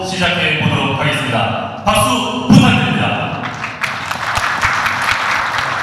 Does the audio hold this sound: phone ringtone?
no